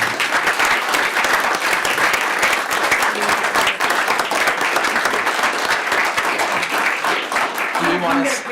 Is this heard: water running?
no